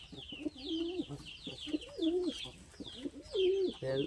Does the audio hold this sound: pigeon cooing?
yes